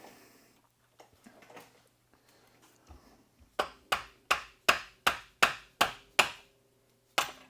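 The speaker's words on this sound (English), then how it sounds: "I will grab this hammer. Let's give it a tap." A run of sharp metallic hammer taps on a 727 transmission part from a 1964 Chrysler New Yorker, about eight in quick steady succession, close and loud, followed by one more tap after a short pause.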